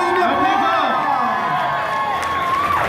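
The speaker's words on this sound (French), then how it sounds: "On l'applaudit bien." Audience at a French anime and Japanese culture convention cheering and clapping for a cosplayer dressed as Bakugo from My Hero Academia, a loud dense crowd roar with whoops and shouts throughout.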